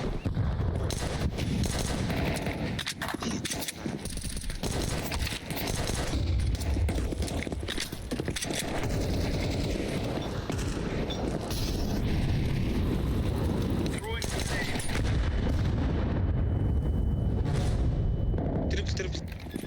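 Grenade blasts and gunfire in Counter-Strike 2 form a dense, loud barrage of shots and explosions that runs the whole way through, with players talking over it.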